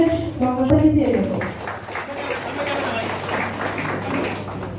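Audience applause at a volunteer organisation's community event, a broad wash of clapping that follows a brief voice at the start and then carries on steadily to the end at moderate loudness.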